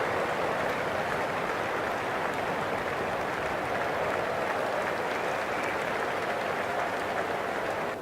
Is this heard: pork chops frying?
no